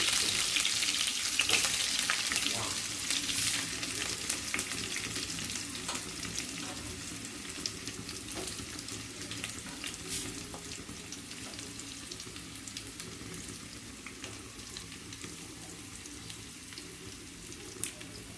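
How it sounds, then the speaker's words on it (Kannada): Chillies, curry leaves and onion frying in a pan: continuous crackling sizzle, loudest at the start and easing slightly, with scattered spatula taps and scrapes throughout. "ನಾವು ಮೊದಲಿಗೆ ಮೆಣಸಿನಕಾಯನ್ನು ಹಾಕೋಣ, ನಂತರ ಕರಿಬೇವು, ಆಮೇಲೆ ಈರುಳ್ಳಿ ಅಥವಾ ಉಳ್ಳಾಗಡ್ಡಿ"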